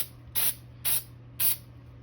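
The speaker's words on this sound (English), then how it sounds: "let's spray a little graphite on there" Graphite sprayed from an aerosol can onto an epoxy-bound sand core for cast iron: three short hissing bursts, evenly spaced and close, over a steady low hum.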